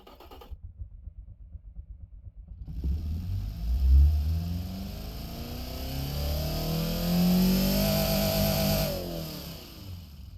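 A car engine in the game Automation runs a test pull, starting with a quiet idle, then revving up and climbing steadily in pitch over several seconds before easing off, loud and close with no talking.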